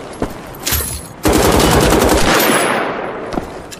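Machine gun fire in the video game Wolfenstein: The Old Blood: a sustained, loud burst of rapid automatic shots after a few scattered shots, close and dense, with no talking over it.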